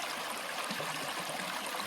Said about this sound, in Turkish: Görmüş olduğunuz dere aynı zamanda Kaz Dağları tarafından ormandan gelen kaynak suyu